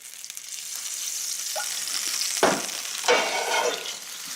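Butter mixed with a little oil frying in a pan, a steady moderate sizzle with brief louder spits and stirring noises partway through, no talking.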